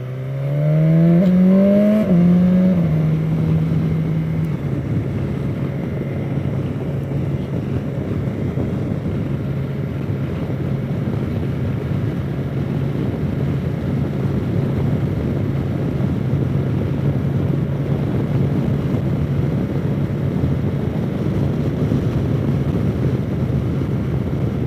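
A 2016 BMW S1000XR motorcycle engine revs upward through a gear change, then holds a steady loud drone while cruising at speed, buffeted by constant wind rush.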